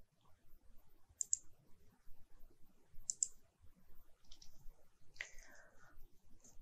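Sharp computer mouse clicks in pairs at steady intervals, with a few softer clicks between them, heard up close over a quiet background during aluminium cross-section modelling in structural design software.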